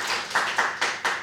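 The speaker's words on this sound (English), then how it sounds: "a bit of a clap for them, please" Audience clapping at a community health launch event in Leitrim, a short burst of distinct sharp claps in a steady rhythm, fairly close and clear, with no talking over it.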